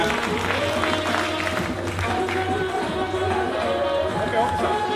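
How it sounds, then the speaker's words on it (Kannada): An audience at a cooperative society's annual general meeting in Bengaluru applauds to congratulate students, with sustained crowd clapping under a speaker's voice throughout. "ತಮ್ಮೆಲ್ಲರ ಜೋರಾದ ಚಪ್ಪಾಳೆಯೊಂದಿಗೆ"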